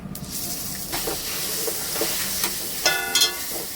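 Ground lentil paste hitting hot mustard oil with cumin and asafoetida in a pan, giving a loud steady hiss and sizzle, with a few crackling bursts and stirring scrapes near the end.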